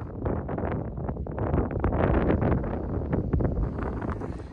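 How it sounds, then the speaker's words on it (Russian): Strong wind buffets the microphone on Dumnaya Hill near Shushenskoye, a loud, continuous roaring rumble with gusty surges that holds steady throughout. "Вот, смотрите, ветрено, сильно ветрено, друзья."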